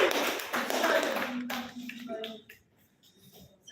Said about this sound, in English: Please give him a loud